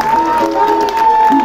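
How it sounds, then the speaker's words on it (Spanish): Audience at a Festa Poble Nou concert in Terrassa applauding steadily, a dense wash of clapping with a sustained tone and voices running over it. "un fuerte, un enorme, el mejor de los aplausos de la noche para una asociación de vecinos que lo trabajó duro para vosotros"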